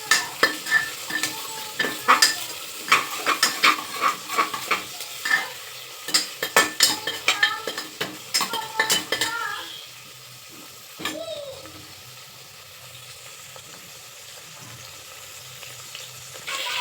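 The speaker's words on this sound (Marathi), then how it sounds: "कांदा घालून चांगला परतून घ्यायचा" Onion sautéing in a pan with whole spices and chillies for a spiced rice dish, with a quick run of spoon scrapes and sizzling clicks for about nine seconds that then drops to a soft, steady sizzle.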